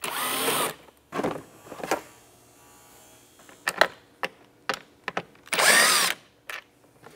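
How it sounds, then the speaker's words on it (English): Power drill backing screws out of the air box on a Ski-Doo E-TEC snowmobile hood, several separate whirring bursts with short pauses between them, close and fairly loud, plus clicks and handling noises. "Now we've taken those screws out."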